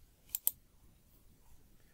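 Pressing the F5 key on a computer keyboard to start a PowerPoint 2016 slideshow: two quick, close plastic key clicks in a quiet room, then near silence.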